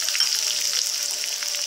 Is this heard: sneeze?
no